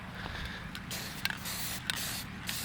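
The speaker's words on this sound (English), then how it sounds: "Here's a dang spray can." A spray can found in a potato field hisses out paint in short continuous bursts with brief pauses, close and fairly loud against a low outdoor rumble.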